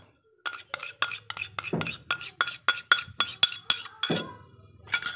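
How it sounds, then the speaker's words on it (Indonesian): A spoon or whisk strikes a bowl in a fast regular rhythm while sweet potato cake batter is mixed with melted butter. The sharp clinks come close up, with a couple of softer thuds between them, and no one speaks. "Dan kita aduk-aduk lagi sampai benar-benar tercampur rata ya"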